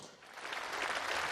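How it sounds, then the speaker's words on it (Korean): Lawmakers and cabinet ministers clap during a presidential speech in a parliamentary chamber, producing a dense, steady wash of applause that swells slightly and holds for the brief moment. "국민의힘과 국무위원들은 여러 차례 박수를 보냈습니다"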